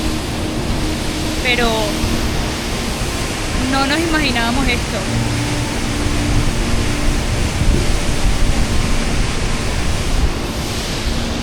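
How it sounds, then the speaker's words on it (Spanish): A glacier-fed waterfall in a remote mountain valley gives a constant, broad roar that fills the whole stretch, with voices speaking briefly over it. "sabíamos que había una cascada por aquí"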